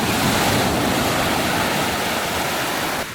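Sea waves wash loudly and continuously onto the shore at Almaza Bay in Marsa Matruh, a dense close surf roar mixed with wind buffeting the microphone, with no talking.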